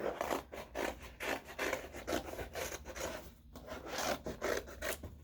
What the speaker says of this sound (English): I'm going to use a pair of scissors and just cut out a little shape